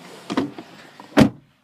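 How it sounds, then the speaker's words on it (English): Front electric windows of a used Fiat Punto moving, a couple of short muffled motor whirs and a thud as the glass stops, close up inside the car. "the driver has complete control over both electric windows in the front"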